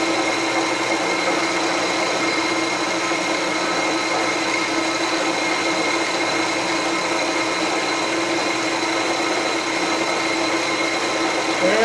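A milling cutter cuts steadily into a bandsaw blade fixture, producing a loud, continuous grinding whine with a constant tone that neither rises nor falls, and no voices are heard.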